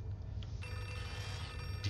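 An old-style telephone bell rings continuously in the horror game Outlast 2, a steady metallic trill that sounds slightly distant inside a building, with no voices.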